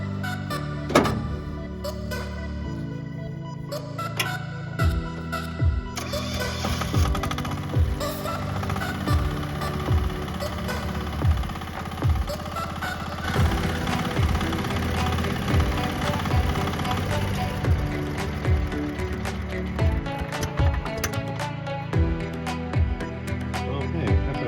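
A small engine on a 0.8t Chinese mini excavator idles with a steady, rapid knocking chug, interrupted by repeated clanks and thumps of nearby work, with occasional speech.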